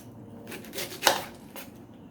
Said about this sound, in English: Place the cabbage on the chopping board